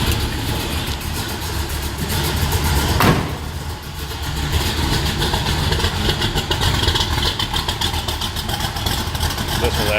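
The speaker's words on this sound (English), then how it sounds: "Listen to that 427 rumble to it." A 1968 Chevrolet Bel Air with a fuel-injected 427 V8 idles with a steady, loud, close rumble and a brief blip near the start.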